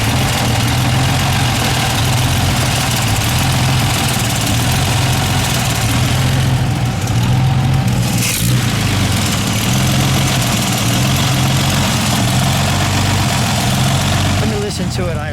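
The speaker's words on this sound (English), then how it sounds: "And we'll listen to it idle." A maroon 1951 Nash-Healey roadster convertible idles steadily with a low, even engine rumble heard from behind, a brief blip partway through, and a person speaking over it.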